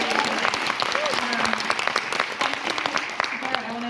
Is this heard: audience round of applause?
yes